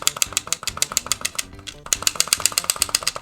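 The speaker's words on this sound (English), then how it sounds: "This is the sound of A-tapping, a core mechanic used with all 3 vehicles," Rapid A-tapping of a kart's car engine in Diddy Kong Racing, a fast rhythmic pulsing buzz that stutters with quick repeated accelerations, briefly dips, then resumes, close and clear.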